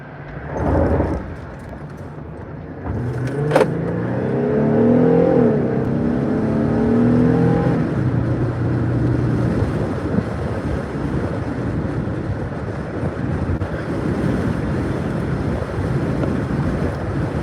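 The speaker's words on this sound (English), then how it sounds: "these cars are coming one at a time and ain't nobody gonna get in the left lane for me" Cars pass one at a time on a road beside a stopped truck during a roadside coolant leak repair. One vehicle swells and fades with rising engine tone, over steady wind rumble.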